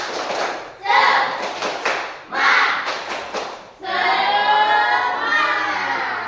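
A class group performs a rhythmic spirit clap in a classroom, with loud bursts of clapping and thumping in a patterned rhythm; the final stretch swells into a sustained round of applause and voices.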